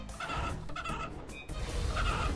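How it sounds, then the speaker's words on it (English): An evil chicken in RuneScape 3 clucks and squawks in a few raspy bursts over game background noise, close and loud, with no speech. "Time to kill the evil chicken."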